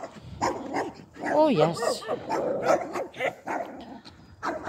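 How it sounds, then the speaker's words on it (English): A young little dog barks and yips in short bursts, close by, while exercising outdoors at Maes y Pant with views over Wales. A person talks and sings nearby over the woofing. "I might as well try and drown the noise of the woofing out."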